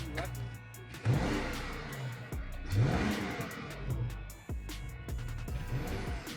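A 2025 BMW M5 Touring's hybrid V8 powertrain cuts in on petrol, with its engine giving a few rising revs and a low rumble between them as people talk nearby.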